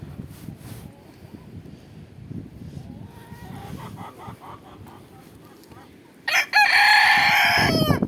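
Low background rustling and faint farmyard noise, then a rooster bursts into a loud, close crow near the end.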